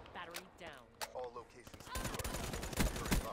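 Burst-fire gunshots in the video game Black Ops 3, a voice talking first, then dense rapid volleys of gunfire crackling continuously and growing louder toward the end.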